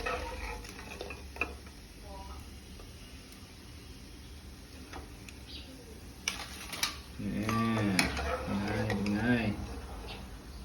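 Fish krupuk crackers frying in hot oil, a soft, steady sizzle with occasional clinks and stirring scrapes, while someone talks over it.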